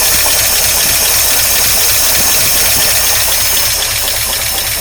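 A 1953 Oldsmobile Rocket Super 88 barn-find engine idles loudly up close, a steady rough rumble with a faint even pulse and some knocking, alone without talk.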